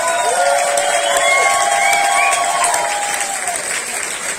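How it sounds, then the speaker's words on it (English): A concert crowd at a handpan show in Prague claps and cheers, with dense applause and rising whoops and whistles throughout, thinning slightly toward the end. "So give yourself a massive applause."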